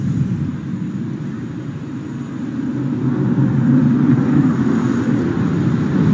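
HAL Tejas fighter jet performing at the Dubai Air Show, a loud continuous engine roar that swells slightly as it passes, steady and fairly near with no voices over it.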